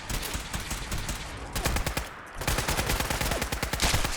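Rapid automatic gunfire in Fallout 4, loud and close, with dense bursts of shots running nearly the whole time and a short pause in the middle before firing resumes.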